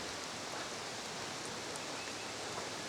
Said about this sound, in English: raindrops falling on the lake.